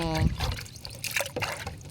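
Water pours onto potted chrysanthemum plants in summer in a short, light trickle, heard under a person's continuous talking.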